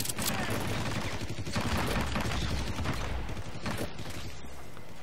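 Rapid bursts of shotgun fire in the stealth action game Hitman Absolution crack loudly and densely, one blast after another with hardly a pause, close and harsh, with game sounds behind.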